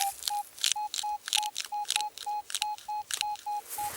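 A metal detector in a field during a coin hunt gives a rapid string of short, identical electronic beeps in an even rhythm, close and clear, with clicking noises between the tones.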